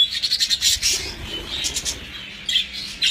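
Budgerigars chirp and twitter in a bird room at a budgerigar stud. The bright, rapid chirps come in quick bursts, with a softer low warbling underneath and no talking.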